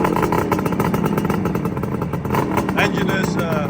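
A Suzuki GT550 RamAir motorcycle with a fully overhauled engine idles steadily nearby, a dense, buzzing two-stroke rattle that runs continuously, with a voice speaking over it.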